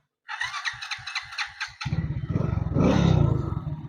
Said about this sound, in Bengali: বাইকটি স্টার হয়ে গেছে